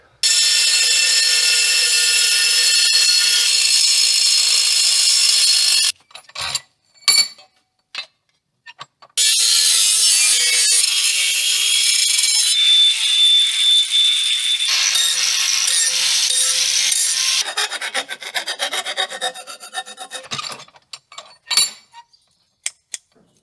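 A saw cuts through a pipe on a Honda Civic FN2 during a supercharger and battery relocation job, giving bursts of harsh, bright rasping strokes. They stop and restart several times, with clanks and brief pauses between the bursts.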